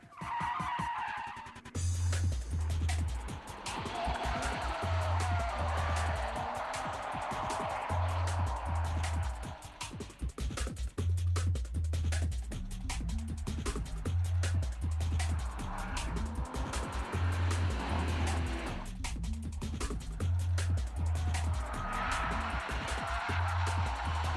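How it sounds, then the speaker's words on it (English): Car drifting through a corner after a downshift locks the rear wheels, with a loud, sustained tire squeal and skidding over a revving race engine that pulses rhythmically through most of the run, close and continuous. "you click it down a gear too much, that locks the rear wheels, it induces wheel spin, then you get it into the drift motion"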